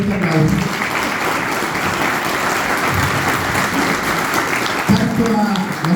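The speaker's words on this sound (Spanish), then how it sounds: "vamos a agradecer con un fuerte aplauso" Steady, loud applause from an audience after a talk, continuous clapping filling the whole stretch with a brief swell near the end.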